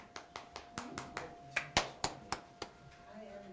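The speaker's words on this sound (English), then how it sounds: "It was a stirring round of applause" A small, sparse round of hand claps at a county Board of Supervisors meeting, a dozen or so distinct claps spaced irregularly and heard fairly close in a quiet room.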